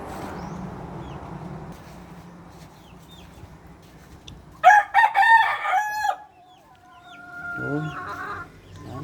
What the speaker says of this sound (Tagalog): punta tayo doon sa mga manok